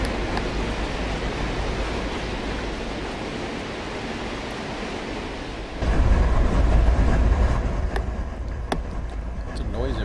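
Train rumble from the Run8 train simulator game, a steady broadband roar that swells louder and heavier with deep low rumble partway through, under occasional voice.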